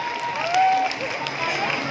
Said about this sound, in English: How about that round of applause for Isis and Ira?